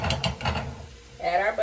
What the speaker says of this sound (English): Then we're gonna add a little butter.